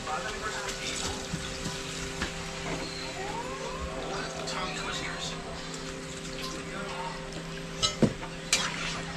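Tap water runs steadily into a cooking pot in a home kitchen, a continuous hiss with a few louder splashes near the end, while a voice talks over it.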